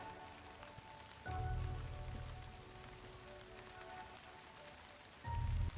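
Steady rain patter used as an ambient effect in a tabletop game session, a constant hiss of drops on a surface that swells louder in two stretches, with no talk over it.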